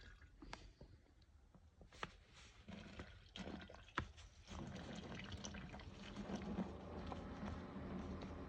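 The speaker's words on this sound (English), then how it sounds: "I've pulled out the grain bag and we're just going to let it drain back down there, get all of that liquid out" Wort draining from a lifted grain bag back into the brew pot during a homebrew Aussie lager brew day, a steady wet trickling and splashing with occasional drips, close and moderately loud, growing fuller in the second half.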